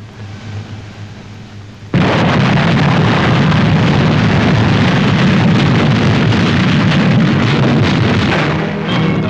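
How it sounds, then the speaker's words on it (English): Massed artillery fire at the Battle of Alamein bursts in abruptly after a quieter opening, then holds as a loud, continuous roar of overlapping blasts and rumbling detonations. "then into the attack with massed artillery at Alamein."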